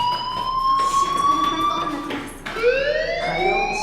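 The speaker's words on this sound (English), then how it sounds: "Hey, do you hear that fire alarm? That means you should be outside." A fire alarm in the video game Life is Strange rings loud and steady, a shrill electronic tone sweeping in repeated rising wails that restart partway through, alone with no talking.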